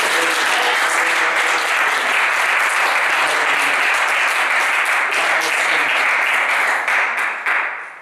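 A church congregation applauding at a seminar, sustained loud clapping from many hands that fills the room and tapers off near the end, with faint voices mixed in.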